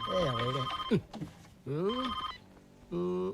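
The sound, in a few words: telephone ringing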